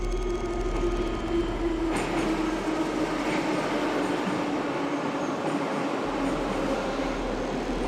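An underground subway train rumbles through a Ukrainian metro station, a loud continuous roar with rail clatter and a rising surge partway through, no voices heard.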